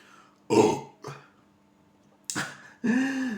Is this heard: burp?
yes